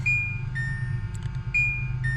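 Repeated electronic warning chime from a car with the ignition key turned to the on position: two short bright beep pairs about a second apart over a low steady hum.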